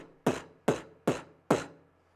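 A human voice beatboxes a kick drum in imitation of a pedal-struck bass drum, giving four punchy, close thumps at an even pace.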